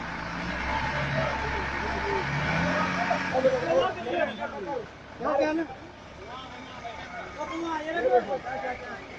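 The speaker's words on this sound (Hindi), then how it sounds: "इस तरह से ड्राइवर और गाड़ी आगे को चलेगा।" A multi-axle truck rumbles forward with a low engine drone beneath steady talking.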